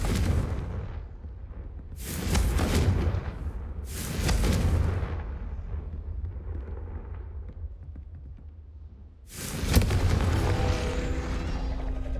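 Confringo blasting spell explosions in Hogwarts Legacy, three booming blasts a couple of seconds apart, each a broad loud burst with a rumbling tail over steady game ambience.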